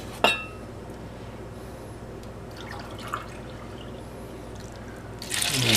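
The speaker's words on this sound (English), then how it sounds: "And now I'm going to put in some water." Water is poured from a measuring cup into a cooking pot for pasta, heard as a short splash at the start, then a quiet pause and a louder, closer rush of pouring water at the end.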